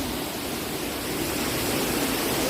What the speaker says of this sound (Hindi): वाओ, तो देखो वाटरफॉल कैसे है